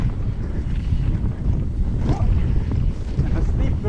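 Steady, loud wind buffets the microphone throughout a mountain bike ride on a forest trail at Woodhill, a continuous low rumble with gusty swells and no voices.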